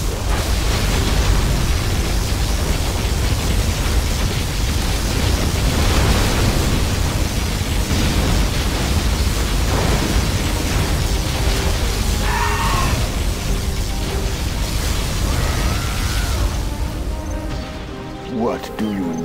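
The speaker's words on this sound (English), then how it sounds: "Warning, particle cannon activated." Particle cannon strikes in the Command & Conquer Generals USA campaign: a continuous, loud, roaring rumble of explosions and crashing debris fills the scene, with faint tonal game effects near the end.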